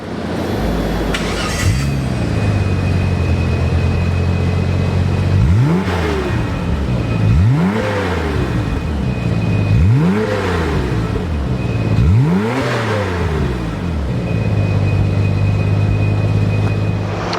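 A 1993 Nissan GTR R32 Veilside fires up loud and close, its engine idling, then revving sharply four times in a steady rhythm of rising and falling bursts before settling back to idle.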